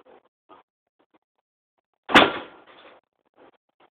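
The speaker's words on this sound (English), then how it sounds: "If you touch this plate, this door will slam shut and will not open." Metal live animal trap door slamming shut, one sharp loud bang with a short rattling ring-out, set among quiet moments with faint soft movement sounds before and after.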